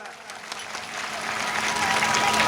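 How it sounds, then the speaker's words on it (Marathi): Audience at a musical sermon in a Shiva temple breaking into applause, the clapping swelling from a scattered start to a dense, steady wash over about two seconds. "टाळ्या वाजवा एकदा."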